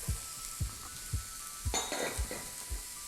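Peppers hit a hot pot in a one-pot chicken and vegetable sauté, sizzling steadily under repeated rhythmic stirring knocks and a brief clatter of utensil against the pot, with no voices.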